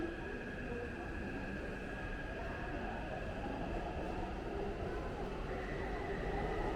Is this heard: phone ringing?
no